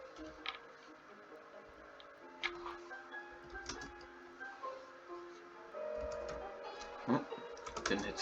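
Keys clack on a computer keyboard in bursts of quick, uneven taps, fairly faint and close, with brief pauses between runs.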